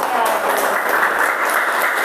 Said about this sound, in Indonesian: tepuk tangan untuk kedua teman kita sekarang